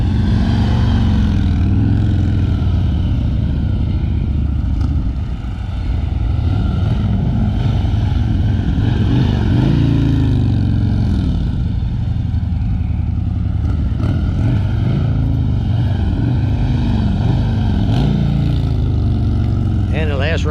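Two motorcycles riding past together during a rider-skills exercise, engines rising and falling as they accelerate and pass, loud and continuous, with someone talking over the engine noise.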